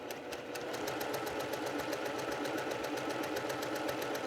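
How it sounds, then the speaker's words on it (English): A sewing machine stitches quilt pieces together, running with a fast, even mechanical rattle of needle strokes that holds steady and close throughout. "Okay, so I'm just sewing"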